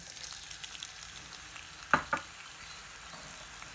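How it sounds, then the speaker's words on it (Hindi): Finely chopped onion frying in hot cooking oil in a pan, a soft, faint steady sizzle with a couple of brief sharper clatters near the middle, no talking. "ऑयल गरम करने के बाद हम इसमें बारीक चॉप की हुई प्याज ऐड कर देंगे,"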